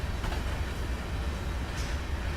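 Steady low rumble of a train rolling along in a train simulator video game, with a continuous mechanical drone and faint higher hiss, no talking.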